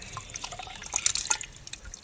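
Soaked broken rice drops into a pot of boiling water, giving soft close-up splashes and drips that cluster near the middle and then fade.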